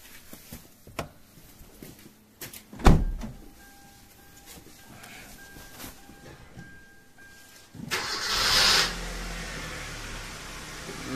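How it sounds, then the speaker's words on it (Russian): A few clicks and knocks, then a Kia Cerato 2 engine cranks and catches with a rising roar that settles into a running rumble after injector flushing. "запускаем двигатель"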